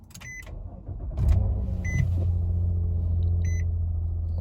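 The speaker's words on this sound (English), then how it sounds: "Let me go ahead, start this car." Several chimes sound as a 2017 Nissan Maxima with about 200,000 miles on it starts. The starter cranks briefly and the engine catches into a steady, loud idle rumble nearby.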